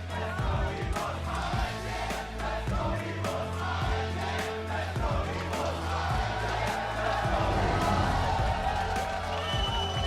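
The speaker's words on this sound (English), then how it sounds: "Let's hear you cheer for your teams." A large esports arena crowd at a League of Legends Mid-Season Invitational 2018 match roars and cheers steadily, with whoops and shouts rising and falling throughout and brief voice-like bursts within the continuous din.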